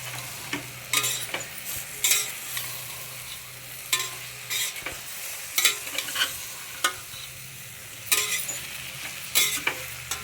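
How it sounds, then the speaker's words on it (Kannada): Mushrooms sizzle steadily in a hot pan while a spoon stirs and scrapes them in repeated bursts, with clinks against the pan over a continuous close frying hiss. "ಮಶ್ರೂಮ್ ಹಾಕ್ಬಿಟ್ಟು ಸ್ವಲ್ಪ ಒಂದು ಎರಡು ನಿಮಿಷ ಫ್ರೈ ಮಾಡೋಣ ಹಿಂಗೆ"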